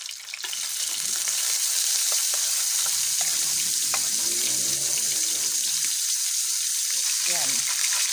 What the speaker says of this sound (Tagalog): So, yung paksiw, piniprito ko lang.